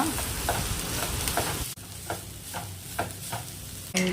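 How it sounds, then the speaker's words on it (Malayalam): A spoon stirs a crushed coconut mixture into ridge gourd thoran frying in a pan, giving a steady close sizzle broken by repeated soft scraping strokes, with one brief drop in the noise midway. "നാളികേരക്കൂട്ട് ഇട്ട് കൊടുക്കുക എന്നിട്ട് ഒന്ന് ഇളക്കി കൊടുക്കുക"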